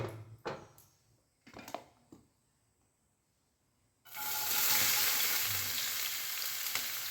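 Tempering sizzles up abruptly in hot oil in a pan, after a few soft knocks and clatters, becoming a loud, steady frying hiss that holds to the end.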